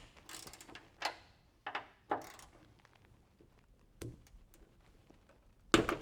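Ratchet loosening 12mm bonnet bolts on a Suzuki Jimny, heard as a few short, quiet clicking bursts spaced apart, ending in a sharper close metallic clack.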